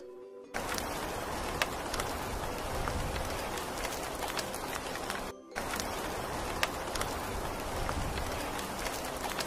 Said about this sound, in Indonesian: Hujan deras banget di luar.